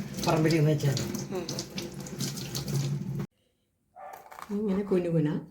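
Vegetables washed under a running tap, steady splashing water under a person talking throughout, broken by a brief silent gap before the water and voice resume.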